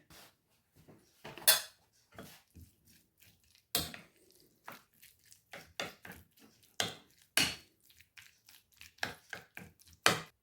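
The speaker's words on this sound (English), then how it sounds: "add about half of these fried onions and give everything a good stir round" A spoon stirs fried onions into a flammkuchen topping mixture in a bowl, giving sparse, quiet knocks and soft scrapes in an uneven rhythm with silent gaps between strokes.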